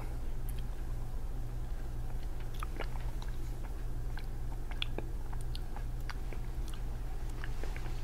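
Close, soft chewing and small crunchy bites of a 1994 MRE beef stew tasted with a cracker, scattered clicks and mouth sounds over a steady low hum, no talking.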